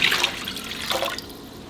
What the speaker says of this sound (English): in a large stock pot, go ahead and put 2 quarts of water,